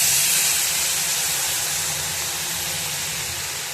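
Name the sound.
water added to fried vermicelli hissing in the pan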